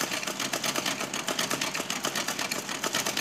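A sewing machine stitches a poly bag made from a plastic sack, running in a fast steady mechanical chatter, close and continuous without pauses.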